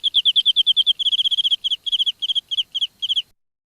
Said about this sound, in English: the sound of the crickets, it's just a fake ones